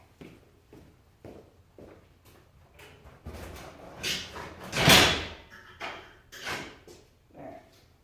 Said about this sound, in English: I'm going to close this garage door.